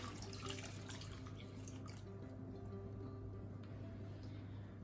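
Tap water runs steadily into a slow cooker bowl of peeled, cut sweet potato chunks, a continuous close splashing and filling sound with a faint low hum underneath and no talking.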